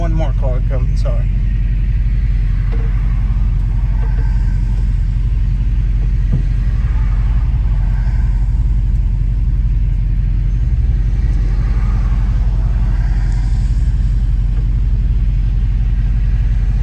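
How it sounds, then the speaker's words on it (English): A 1970 Dodge Challenger R/T on a test drive along a road in Kentucky, its engine a steady low rumble throughout with faint road noise, while people talk over it inside the car. "we're going to take this 1970 Dodge Challenger RT for a test drive and see how it does"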